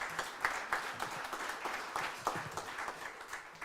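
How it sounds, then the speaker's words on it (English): Audience applause at a renaming ceremony for a university diversity office, steady crowd clapping with scattered sharper claps, moderately distant and continuous for a few seconds. "Let's give God a hand clap of praise for this day."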